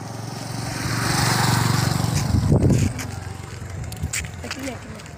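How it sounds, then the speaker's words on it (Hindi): A motorbike passes along a roadside lined with trees and plants outside a house, its engine drone building to a close, loud peak around midway and then fading, with someone talking over it. "इधर एक बाइक आ रही है।"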